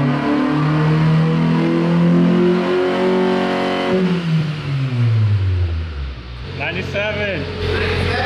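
A Honda Civic EG with a small engine converted to flex fuel revs hard through a dyno pull, climbing loud and steady in pitch, then easing off before picking up again, with voices over the engine.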